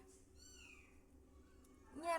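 A single cat meow from a cat sitting inside a pot, rising then falling, fairly faint, followed by a brief louder burst at the end over a low background hum.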